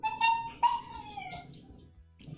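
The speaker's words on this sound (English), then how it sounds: "And my dog." A dog gives a high, falling whine, then a softer, drawn-out whimper that trails away. It is close and fairly loud, with no talking.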